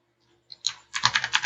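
Keys tapped on a computer keyboard while setting a timeout value, a couple of isolated clicks followed by a quick burst of close, crisp keystrokes.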